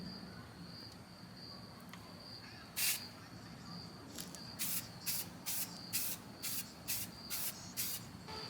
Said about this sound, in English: give it a prime with this black prime and paint